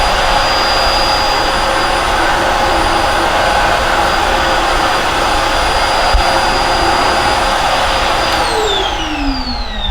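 A Riccar R40P upright vacuum cleaner runs nearby, a loud, steady motor whine with a bright high hiss that holds level, then its pitch sweeps near the end as the machine is moved or shifts load.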